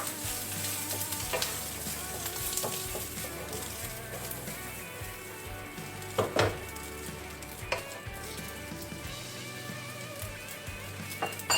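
Rice and chorizo sausage frying in a pan, a continuous close sizzle with scraping stirs and occasional sharp clinks of utensil on pan, no talking.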